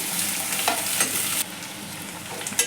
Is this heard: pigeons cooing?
no